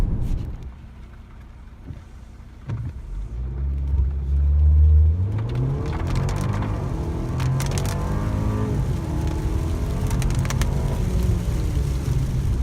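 A 2016 BMW 740Le xDrive plug-in hybrid accelerates hard from a standstill, the engine note rising steadily then shifting through gears, with a strong low rumble and no voices.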